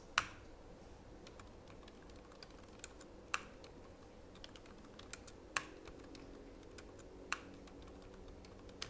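Soft, sparse typing on a computer keyboard while dimensioning a technical drawing, with a few sharper, louder key presses standing out from the quiet clicks.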